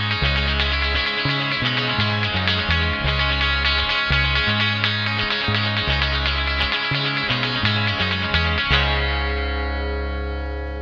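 Distorted electric guitar plays rapid repeated triplet strums over a chord progression, loud and close, changing chords in a steady driving rhythm before a final chord rings out.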